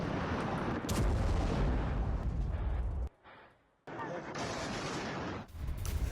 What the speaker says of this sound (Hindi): आमने सामने की फायरिंग में गोलीबारी हुई है और धमाके से ये पूरा इलाका इस तरह से हो चुका है।